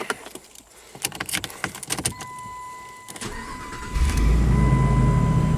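A Jeep engine cranks and catches after a few seconds of clicks and key rattles, then settles into a steady, loud idle rumble.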